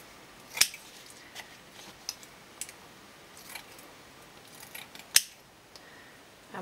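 Scissors trim paper for a handmade double file folder, with two sharp, crisp snips standing out and several fainter cuts in between over a quiet background.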